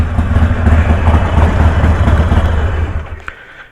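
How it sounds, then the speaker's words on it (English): Harley-Davidson Sportster motorcycle engine running loud and close, a steady low rumbling throb that holds for several seconds before easing off near the end. "It is a noisy motorcycle."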